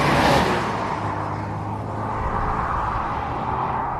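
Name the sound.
Mazda 3 manual hatchback car driving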